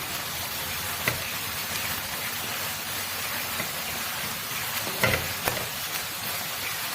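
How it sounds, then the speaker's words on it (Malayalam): Sliced onions fry gently in a pan for chicken chukka, a soft steady sizzle with a couple of sharp spoon knocks and stirring scrapes, heard alone without talk. "എല്ലാ ഭാഗം നല്ലോണം വേവാൻ വേണ്ടിയാണ് ഞാൻ ഇളക്കുകയും ചെയ്യുന്നത്."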